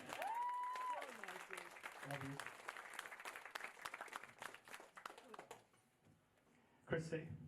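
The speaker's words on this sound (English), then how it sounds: "I think that deserves a round of applause." Wedding guests applauding during a speech, a burst of clapping mixed with voices and cheering that thins out midway, followed by a short laugh or call near the end.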